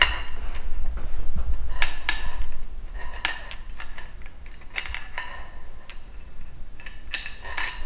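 A metal track nut is dropped and worked into a Boonedox Groovy Console track, giving a series of sharp metallic clinks and taps spaced irregularly over the span, close and crisp against a low background hum.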